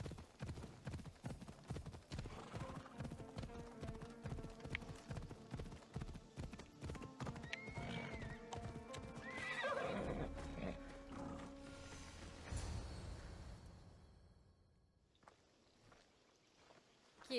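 Horse hooves clip-clop steadily at a trot in Assassin's Creed Odyssey, a continuous rhythmic beat with a brief whinny midway before the hoofbeats fade toward the end.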